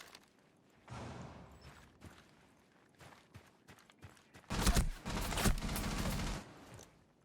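Rainbow Six Siege video game gunfire comes in bursts: a short volley early, scattered single shots, then two long, loud automatic bursts near the end over a quiet background.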